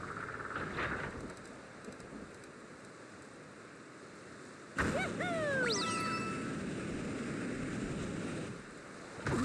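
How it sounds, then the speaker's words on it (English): Steady rain hisses throughout a level of Super Mario 3D Land, a broad continuous wash that grows louder partway through. Bright sweeping game tones rise and fall over it. "This is like the first time we've gotten rain in the game."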